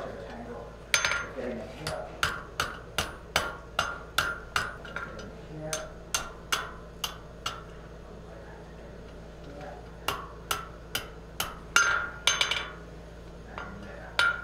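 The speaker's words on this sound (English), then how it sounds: "Be nice if I could do it with the hammer." A hammer rings on metal in a steady run of sharp, evenly spaced clinking strikes, with a brief pause midway before the rhythm resumes, set against a quiet room with some faint talk.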